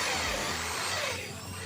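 A DCK KZJ16 impact drill bores with a regular drill bit, giving a loud, steady, close whirring grind that softens slightly near the end, with no voices over it.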